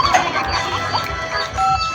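Chickens clucking nearby in a rural Thai setting, a few short, loud, choppy clucks in quick succession over a low background hum.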